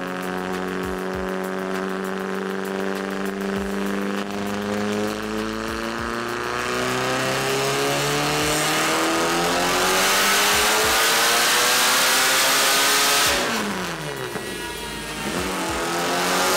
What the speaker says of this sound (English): Now we're gonna start doing power pulls.